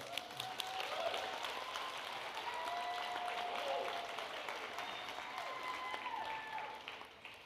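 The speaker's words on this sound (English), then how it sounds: "So let's give her a round of applause." An audience at a school district State of the District event gives a round of applause, a sustained wash of many hands clapping at moderate distance, faint and even, with a few brief tonal tones threading through.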